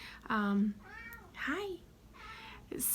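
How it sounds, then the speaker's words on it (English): A pet cat meows several times in a home, clear and close, with harmonic calls interleaved around a person speaking casually to the camera. "that's my cat talking."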